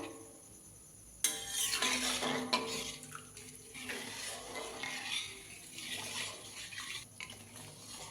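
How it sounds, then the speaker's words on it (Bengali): A spoon scrapes and swirls milk mixed with palm fruit pulp in a metal pot, soft clinks and sloshing after a sudden start, continuing steadily. "এইভাবে দুধটা একটু নাড়াবো নাড়বো"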